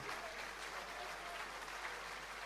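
Audience applause at a business launch evening of the CCI Moselle, steady clapping from a seated crowd, fairly faint and distant, continuing evenly throughout.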